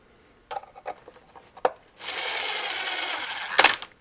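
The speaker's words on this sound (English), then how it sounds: "I'm only going to install two screws, and I'm going to use a little power to do it" A power drill drives two screws into a small fuse and bulb tester unit, first a few handling knocks, then a loud steady whir lasting about a second and a half and ending in a sharp clatter, with no voices.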